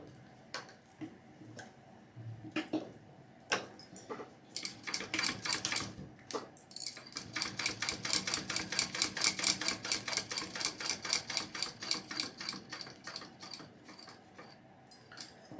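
A sewing machine runs a double row of topstitching on a handmade Rayna garment, with scattered single ticks and short bursts giving way to a long, steady rapid mechanical stitching run, close and moderately loud, no talk.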